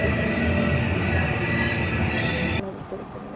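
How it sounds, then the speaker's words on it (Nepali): A train pulls into a station in Japan: a loud, steady rolling rumble with droning tonal whine fills the scene, then cuts away abruptly into quieter station ambience. "ट्रेन आइरहेको छ"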